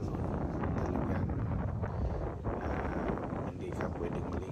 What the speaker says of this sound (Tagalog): ang hangin napakalakas po